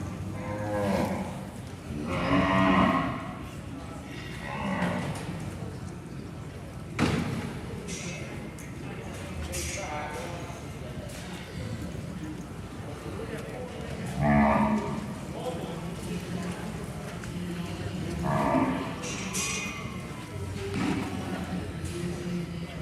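Cattle lowing repeatedly in a show ring during gray calf female classes at a winter cattle show, several moos spaced across the scene with a sharp thud, amid crowd and arena murmur and an announcer talking.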